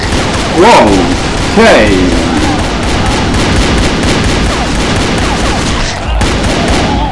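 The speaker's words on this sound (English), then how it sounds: "This particular place was being shot up." Gunfire in the video game Survival Crisis Z crackles steadily through a battle scene, with a couple of louder thumping impacts early on, while a man exclaims briefly over the din.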